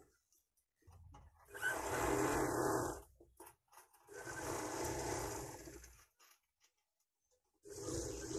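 A sewing machine runs in three separate bursts while stitching piping onto a blouse, each a few seconds of steady whirring motor hum with brief quiet gaps between them.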